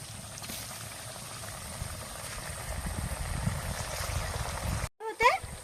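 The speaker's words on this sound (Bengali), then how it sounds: "এরকম ভাবে সবগুলো ভেজে নেব।" Taal pakon pithe, palm-fruit dumplings, frying in hot oil, a steady close bubbling sizzle that continues throughout, with a brief break near the end followed by a louder splash of activity; a voice is heard over it.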